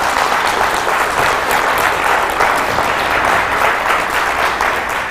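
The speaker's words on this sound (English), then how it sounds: "Please give them a big round of applause." Sustained applause from a nursing symposium audience honoring the magnet champions, a dense, steady wash of many hands clapping that holds at an even level throughout.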